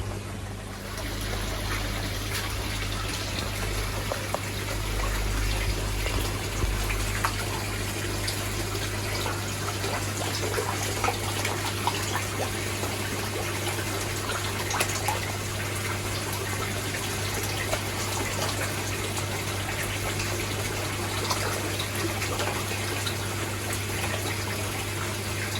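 Water pours steadily through a Bakki shower filter packed with new ceramic media on a koi pond, a constant close splashing rush with no pauses, over a low pump hum.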